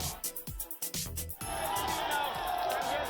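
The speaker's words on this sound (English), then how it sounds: "quite a crowd there showing up outside Tihar jail in Delhi to greet Sanjay Singh" A large crowd gathers outside Tihar jail in Delhi to greet Sanjay Singh, first a few sharp shouts and claps, then a sustained roar of cheering voices swelling together.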